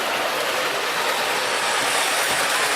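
A model train in a Christmas garden display runs steadily with a continuous rushing, hissing rumble of wheels on track, close and even throughout with no talking.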